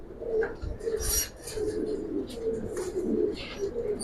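A pair of all-silver Giribaz pigeons in a loft give repeated low, throaty coos in rolling phrases. The coos are close and moderately loud, and a voice is faintly present at times.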